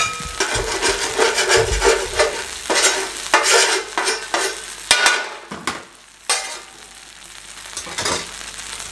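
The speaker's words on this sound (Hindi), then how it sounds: "हल्का सा यहाँ पे घी डालें, इसको यहाँ पे ले आएं। ठीक हो गया। इसको सेक लें अच्छे तरीके से।" A cheese sandwich toasts in ghee on a street-stall griddle, crackling and sizzling as a spatula scrapes, stirs and presses it in irregular strokes that come close and loud, then ease off toward quieter frying.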